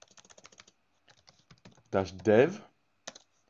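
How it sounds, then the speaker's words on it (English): Short bursts of computer keyboard typing as a terminal install command is entered on a Raspberry Pi 4, light quick keystrokes clustered at the start and scattered later, with a spoken voice breaking in over the middle. "type the following command to install the dependencies"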